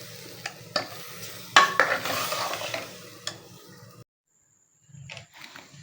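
Potato and eggplant curry fries in a pan, with stirring scrapes and a steady sizzle that stop abruptly into near silence before a few faint clinks return.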